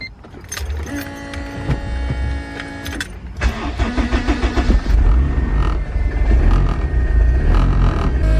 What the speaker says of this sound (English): I'm gonna go ahead and turn the car on